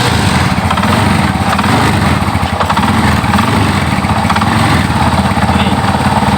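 A Yamaha Scorpio motorcycle engine runs steadily up close after being started, with a dense, continuous mechanical drone and no break throughout.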